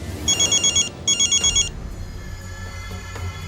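A telephone rings with two quick trilling bursts of an electronic bell, loud and close, then stops, leaving a quiet room background.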